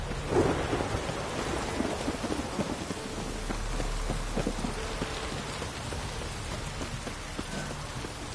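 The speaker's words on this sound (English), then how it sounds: "A storm, damn it." Steady rain pours down while thunder rumbles low and long through a storm in the video game The Witcher 3, with no voices.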